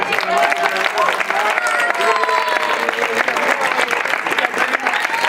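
Audience applause mixed with cheering and crowd voices at the end of a told folk tale at a storytelling gathering in Penàguila, steady and loud throughout, with tonal shouts and talk over the clapping.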